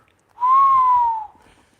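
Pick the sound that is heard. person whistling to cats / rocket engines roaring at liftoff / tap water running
person whistling to cats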